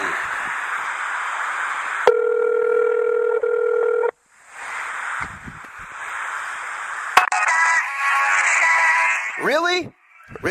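Electronic telephone tones: a steady two-pitch tone, a hum of line noise, then a rapid run of beeps ending in sweeping chirps, with brief voices between.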